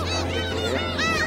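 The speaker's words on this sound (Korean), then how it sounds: "아주 갈매기들이 오늘 주말을 맞아서 관광객들이 이렇게 새우깡을 주니까 아주 갈매기들이 엄청나게 때로 몰려왔습니다" A large flock of seagulls calls loudly and continuously at a waterside island on the Ara Canal, crowding in as weekend tourists toss shrimp crackers, with overlapping shrill cries and a steady low hum beneath.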